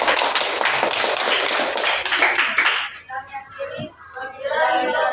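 A burst of loud, close clapping from a group for a small-group presentation that stops abruptly after about three seconds, followed by voices talking.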